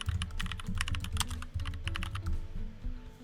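A password is typed on a computer keyboard in a steady run of quick, close key clicks with brief pauses, with no voices.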